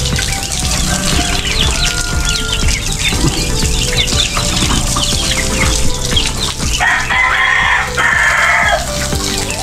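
Chickens and young chicks in a backyard coop, with loud, dense clucking, crowing and peeping that carries on throughout, plus a burst of shrill, higher calls near the end.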